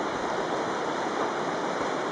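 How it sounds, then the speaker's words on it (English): Fast-flowing Bright Angel Creek in the Grand Canyon rushes in a steady, even wash of water noise, moderately loud and continuous with no voices. "you can kind of hear the creek in the background"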